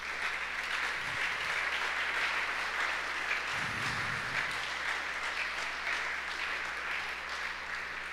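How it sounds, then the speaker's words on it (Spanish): Applause from a Spanish-language church congregation during a sermon, a soft, distant wash of clapping that holds steady throughout, with a low hum underneath. "dale un fuerte aplauso al Señor"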